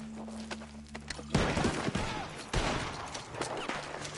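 After a low droning hum, a rapid burst of video game gunfire erupts in Red Dead Redemption, with sharp shots from a barn continuing loud and close over a noisy, cluttered background.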